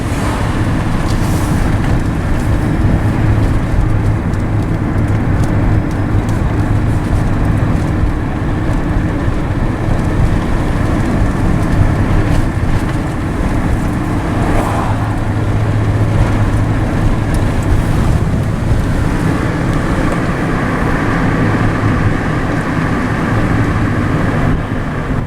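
Strong wind roars steadily through trees after a storm that brought branches down, with a constant broadband rush and gusts rising and falling throughout. No voices are heard.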